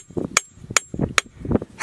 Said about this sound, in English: I want to try hitting it with a hammer.